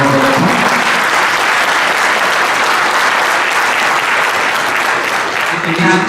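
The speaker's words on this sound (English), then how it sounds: "Please give a final resounding round of applause for Mr. Mahboula." Seminar audience applauding loudly and steadily throughout, a dense continuous wash of clapping with a faint voice briefly audible at the start and near the end.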